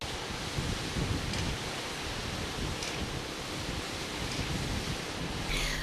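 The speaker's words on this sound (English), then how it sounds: "This river flows sneerily through the slopes of Mountain Rwenzori" River Mpanga in western Uganda flows down the slopes of the Rwenzori mountains, a steady broad rushing roar mixed with wind buffeting on the microphone and no talk.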